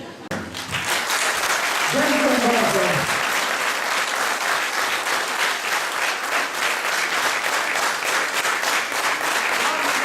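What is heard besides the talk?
audience applause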